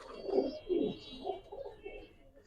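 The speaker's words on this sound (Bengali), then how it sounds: "খুব স্ট্রং এটা কবুতর।" Pigeons cooing nearby in a bird-selling setting, a couple of low throaty coos early followed by softer, repeated murmuring calls, with no talking.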